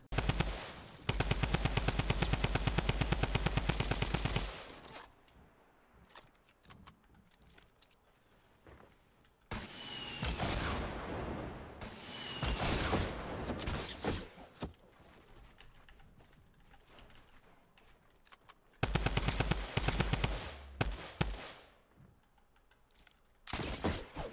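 Gunfire in the video game Fortnite comes as two loud bursts of rapid shots, one at the start and one later. Quieter game noise and some keyboard clatter fill the gaps between them.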